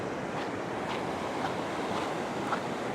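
Ocean surf breaks and rushes steadily on a fishing beach, a constant loud wash of waves with wind buffeting the microphone, no voices.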